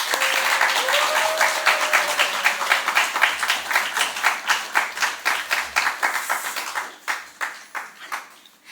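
A church congregation at a Friday evening gathering claps to welcome a deacon, starting as a dense wash of applause that thins into distinct rhythmic claps and then fades out.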